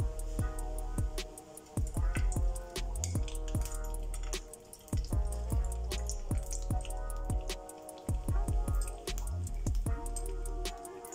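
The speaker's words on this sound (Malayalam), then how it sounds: "നെയ്യ് ഒഴിച്ച് കൊടുക്കാം" Ghee poured into a pan for Kerala-style rava laddu, heard as a close, steady run of quick liquid drips and small splashes over a low continuous hum, with no talking.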